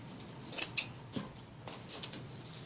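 Scissors snip tulle for a shabby chic Christmas ornament, several quiet, close crisp cuts in an irregular rhythm with soft handling sounds between them.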